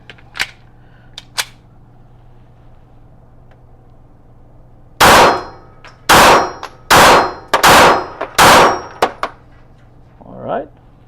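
An S&W Equalizer pistol fires at an outdoor range: a rapid string of about six loud, sharp shots, preceded by two fainter, earlier reports, with quiet background between.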